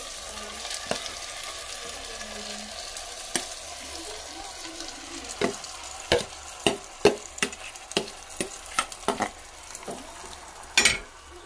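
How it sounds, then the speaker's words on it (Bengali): Marinated mutton with whole garlic cloves sizzles steadily in a pan, with a low continuous frying hiss. Sharp ladle scrapes and knocks against the metal come in an irregular run as the meat is stirred, all close by. "ম্যারিনেট করা মাংসটা দিয়ে দিব। এই যে তার মধ্যে গোটা রসুনও দিয়ে দিয়েছি একবারে।"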